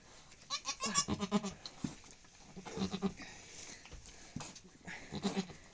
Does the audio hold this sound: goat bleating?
yes